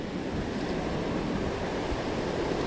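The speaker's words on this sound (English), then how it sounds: "Nice little waterfall." A small waterfall beside a wet mountain bike trail gives a steady, close hiss of rushing water that stays even and unbroken throughout.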